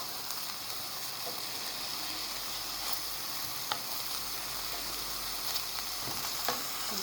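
Meat and onions frying in a pan and being stirred, giving a steady, moderately loud sizzle across the whole stretch with a few faint scraping clicks and no talking.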